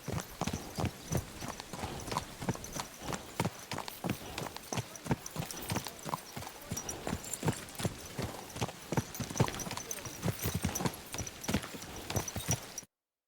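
A horse's hooves clip-clop in Kingdom Come: Deliverance II, a steady rhythmic run of close, sharp hoofbeats that carries on for about thirteen seconds without speech.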